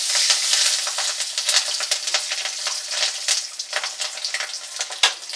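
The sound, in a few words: bay leaf, cumin and green chilli sizzling in hot oil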